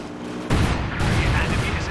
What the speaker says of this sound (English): Cluster bombs coming down.